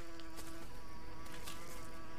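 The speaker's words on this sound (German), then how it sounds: "Das klingt nach einer einzelnen fetten Stubenfliege." Buzzing from a wasp nest in the survival game Green Hell, a continuous droning hum like a single large housefly, steady and close, with no speech over it.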